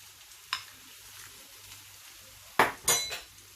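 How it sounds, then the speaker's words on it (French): Paella in a sizzling pan being stirred, a faint background sizzle broken by a few sharp scraping clinks of a utensil against the pan, one early and two close together near the end. "je vais bien mélanger"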